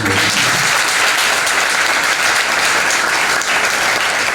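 Loud, dense applause from a large audience at a talk on government jobs, a continuous roar of clapping that holds steady throughout.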